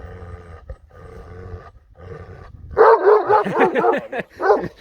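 A Kangal dog barks and growls in a loud, rapid burst up close, following a stretch of lower rumbling noise.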